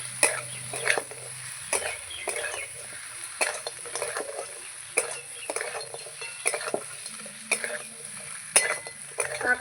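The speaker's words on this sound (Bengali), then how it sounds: "ভালো করে ভালো করে নাড়াচাড়া করবো" Crab and potatoes are stirred in a spiced pan, producing irregular light clinks and scrapes of a spatula over a faint, steady sizzle, moderately close and without speech.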